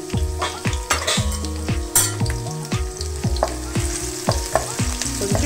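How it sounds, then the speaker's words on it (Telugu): Chopped garlic and green chillies frying in oil for restaurant-style egg manchurian, with sharp metallic utensil clanks against the pan over a steady sizzle, close and loud, no one speaking. "ఇప్పుడు వీటిని కొంచెం ఫ్రై అవనిద్దాము."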